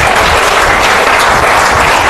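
Dense, loud audience applause at a school spelling bee competition, a continuous wash of many hands clapping close by with no speech over it.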